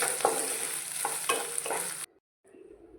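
Chopped raw potato and onion sauté in hot oil with a steady close sizzle, punctuated by a few spoon stirs and scrapes, then a brief silence before quieter frying resumes.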